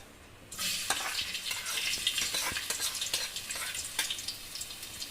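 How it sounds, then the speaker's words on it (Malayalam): Crushed garlic and long-cut ginger drop into hot coconut oil and burst into a loud, steady sizzle, crackling and popping close up with occasional stirring scrapes for several seconds. "ഈ വെളിച്ചെണ്ണ ഒന്ന് ചൂടാവട്ടെ. ഇതിലേക്ക് നമുക്ക് കുറച്ച് വെളുത്തുള്ളി ചതച്ചതും ഇഞ്ചി ഇങ്ങനെ നീളങ്ങനെ മുറിച്ചതും ഇടുക."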